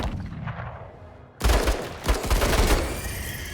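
Mortar fire in the video game Menace: a sudden heavy burst of booming blasts and rapid gunfire erupts after a quieter rumbling stretch, loud and close, with repeated impacts continuing to the end.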